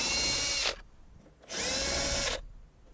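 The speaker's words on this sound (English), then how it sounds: "we're gonna remove these two 10mm bolts that's holding this" Two bursts from a power drill removing the 10mm bolts that hold the radio in a Lexus NX, each whirring for under a second with a short quiet gap between, close and clear.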